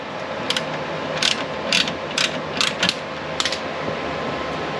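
Ratchet tightening bolts on a rear shock of a Vauxhall Suzuki: several short bursts of close metallic clicking, spaced at irregular intervals, over a steady background hum and with no talking.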